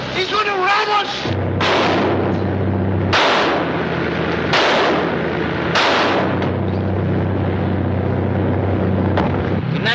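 Gunfire in a 1939 mystery adventure film sounds as four or five loud, booming shots at irregular intervals over a continuous engine and water rumble, with a voice heard briefly at the start.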